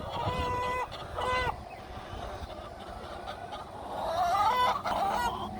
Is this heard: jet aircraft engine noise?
no